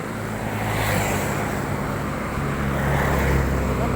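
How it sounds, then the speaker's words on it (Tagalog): Heavy traffic streams past on a busy road during a Holy Week walk, a loud, continuous close-up roar of many engines and tires swelling slightly toward the end. "Bernie Santo, dami sasakyan."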